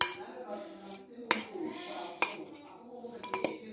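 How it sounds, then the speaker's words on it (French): A utensil stirs glitter slime in a bowl, giving soft, squelchy mixing sounds punctuated by several sharp clinks against the bowl's rim. "quand on mélange le slime dans le bol, il ne veut même pas se mélanger"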